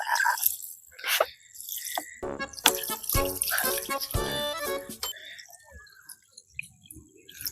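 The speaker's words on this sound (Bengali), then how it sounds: "আস্তে আস্তে এখানে জল ফেলতে হবে" Water poured slowly into a plastic bottle fish trap outdoors, heard as a few close bursts of splashing and trickling, with quieter drips in between.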